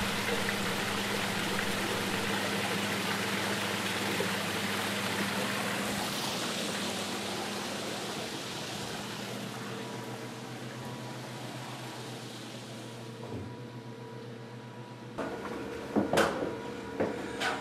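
Backyard waterfall roaring steadily, a dense continuous rushing wash that slowly softens, with a few faint clicks and knocks near the end.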